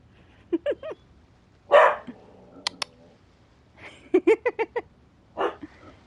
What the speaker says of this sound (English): Y'all see my dog?